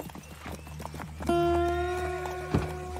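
Horses in a video game clip-clop steadily on hard ground, and a loud, bright neigh breaks out midway, followed by a sharp snort or second call near the end.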